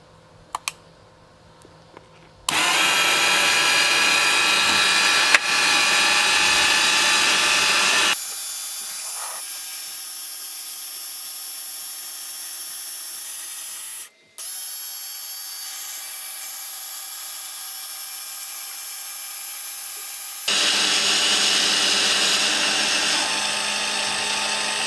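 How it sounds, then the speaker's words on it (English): A Firgelli linear actuator runs with a loud electric motor whine, drops to a lower steady hum, pauses briefly, then continues and whines louder again near the end. "The actuator is going to fully extend, pause, and then fully retract."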